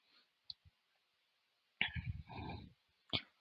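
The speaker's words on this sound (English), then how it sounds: "So then you have to click start form." Sharp, faint mouse clicks come through a quiet room as an on-screen button is pressed, a few isolated snaps with a brief burst of handling noise between them.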